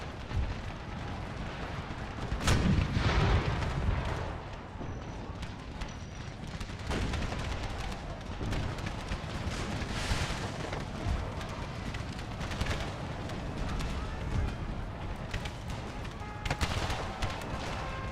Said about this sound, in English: Artillery. Switch back to your explosive shot. Fire on that infantry.